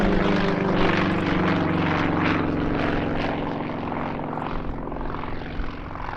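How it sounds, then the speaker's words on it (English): A Russian-designed Yak-50 aerobatic propeller plane roars through its takeoff at an airshow at Duxford, a loud, steady buzzing engine drone that holds strong and then eases slightly as it climbs away. "flying a French-registered, Belgium-based, Russian-designed Yak-50 named Sasha"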